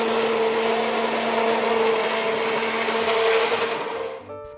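Hand blender whirring steadily as it mixes seasoned masa for Salvadoran tamales with chicken bouillon and pork lard, a loud continuous motor drone that cuts off near the end.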